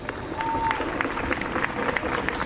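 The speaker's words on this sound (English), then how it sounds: "we would just like to honor West Essex seniors with a round of applause" A crowd at a high school boys soccer game claps for the visiting seniors, a steady spread of applause from spectators with faint voices mixed in.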